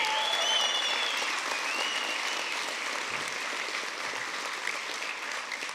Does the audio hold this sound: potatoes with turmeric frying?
no